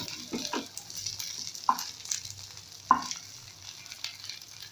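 Idli pieces sizzle and fry on a hot tawa while amchur powder is sprinkled over them and they are turned, a steady low crackle broken by a couple of sharp clinks from the spatula.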